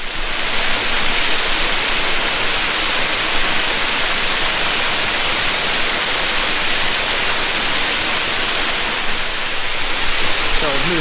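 Ironbark Falls pours in a steady, loud broadband rush of falling water, close by and unchanging throughout, with a faint voice near the end.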